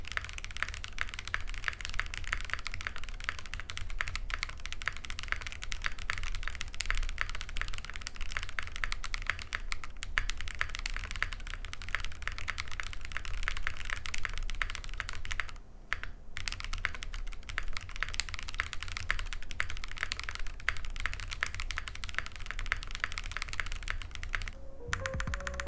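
Continuous fast typing on a link65 mechanical keyboard fitted with a foam insulation layer in the case bottom, dense clacking keystrokes heard close and clear, with brief pauses near the middle and end.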